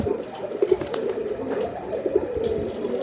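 Giring pigeons coo loudly and repeatedly in throaty, rolling bursts, close by, with faint background noise.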